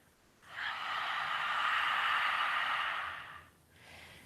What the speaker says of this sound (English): Inhale, full breath in through the nose. Exhale, open mouth,